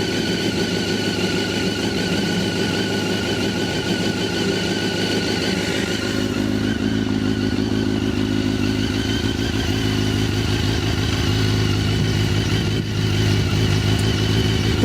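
A Honda CBR1100XX Super Blackbird motorcycle idles in neutral, its engine running close by in a steady, even drone with a faint mechanical clatter and no talk.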